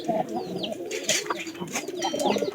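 Pigeons coo nearby in overlapping low, burbling calls, with a brief flutter and faint chirps mixed in.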